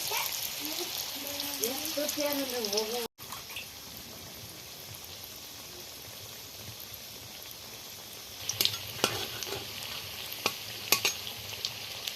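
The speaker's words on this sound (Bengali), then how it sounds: "তেল গরম হয়ে গেছে এবার পকোড়ার মতো করে ভেজে নেব" Curry leaf pakoras deep-fry in hot oil, a steady bright sizzle throughout with scattered sharp pops and crackles; a voice speaks briefly at the start.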